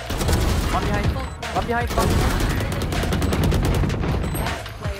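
Rapid gunfire bursts from the tactical shooter Valorant, loud and close, with several quick volleys over dense game noise while a player talks over the action.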